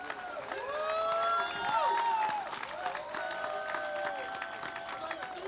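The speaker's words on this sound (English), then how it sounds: "Let's give him a round of applause" A crowd applauds at a Hungarian heritage folk festival show in the San Francisco Bay Area. The clapping swells and then holds steady, with scattered cheers, while an announcer's voice carries over it.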